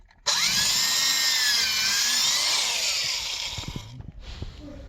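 Power drill or impact driver driving screws at an angle into a wooden floor beam during tongue-and-groove flooring installation, one long continuous whining run close by, then tapering into a few knocks and handling sounds.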